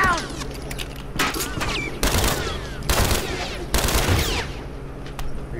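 Gunfire in The Last of Us Remastered multiplayer rattles out in four loud, sharp bursts spaced about a second apart, with automatic fire and echoing reports between them.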